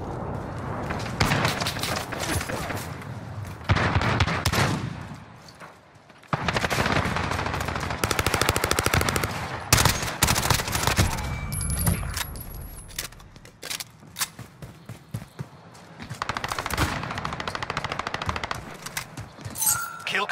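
Rapid automatic gunfire and single shots in the 2019 Modern Warfare shooter game, loud bursts coming in waves throughout with brief lulls and clattering effects.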